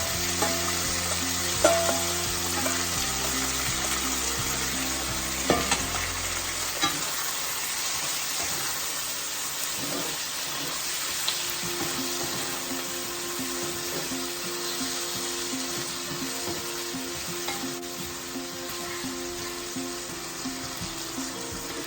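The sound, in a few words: soya chilli frying in sauce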